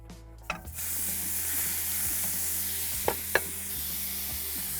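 Lamb lollipops sizzle in a cast iron pan on a Kamado Joe grill, a steady close frying hiss broken by a few sharp clinks and scrapes as the pieces are moved around.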